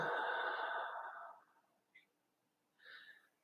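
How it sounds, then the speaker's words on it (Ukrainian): A long, smooth breath out that gradually fades, followed by a couple of faint, short breathy sounds in a quiet room. "спокійно і дуже плавно видихаємо"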